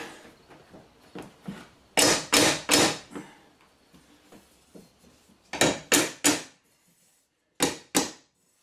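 Hammering vinyl plank flooring with a hooker tool: several sharp, loud metallic-wooden knocks in quick clusters of three or four, separated by pauses, with fainter taps between.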